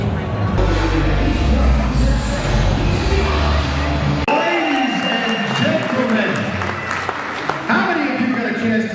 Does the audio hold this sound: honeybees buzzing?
no